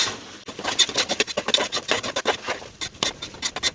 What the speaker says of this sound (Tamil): இப்போ அதையும் சேர்த்து நல்லா வதக்கி விட்டுடலாம்